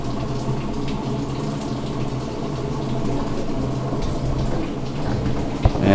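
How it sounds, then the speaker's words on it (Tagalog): A Samsung automatic washing machine refills with water, a steady rushing, splashing flow that runs continuously at close range, with a low hum beneath and a single brief knock near the end. "So yan, mag-refill na ng tubig."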